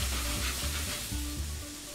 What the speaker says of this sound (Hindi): मैं यहाँ पे थोड़ा सा तेल ले लेता हूँ, एक टेबलस्पून तेल और ले लें, डाल लें ताकि सारी चीज़ें अच्छे से वापस पकने लगे